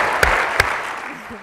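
Audience applause at a literary conversation event, a broad steady wash of clapping with two sharper claps standing out early, filling the short clip and tapering slightly toward the end.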